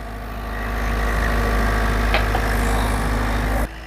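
Diesel engine of a Ford Figo Freestyle idles steadily while warming up during a major service, a loud close continuous rumble that drops off sharply at the very end.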